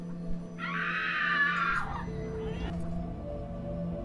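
A shrill scream from a film soundtrack rises and holds for about a second before breaking off, over a low hum and faint background noise.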